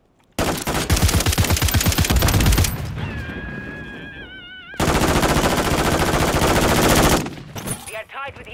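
Sustained bursts of rapid machine gun fire in Call of Duty Modern Warfare III, loud and close, two long volleys separated by a brief gap with faint tonal game sounds.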